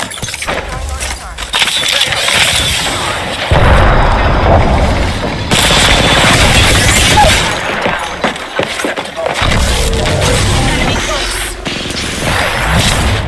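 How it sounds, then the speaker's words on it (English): Enemy gunfire in a battle royale shooter sounds as loud bursts of rapid shots with cracks and shattering impacts, coming in repeated waves with short gaps between them, under and between a player's voice. "I'm under fire. They're shooting at me."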